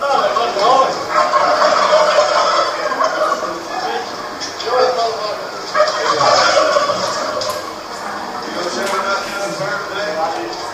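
Turkeys gobbling continuously inside a turkey producer's slaughterhouse, a loud dense chorus of many birds calling over one another throughout.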